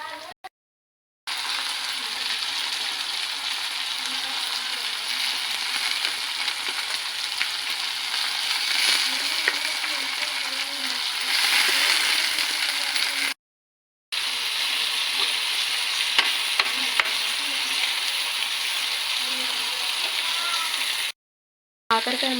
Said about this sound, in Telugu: బాగా వేయించుకోవాలండి కాకరకాయ ముక్కలు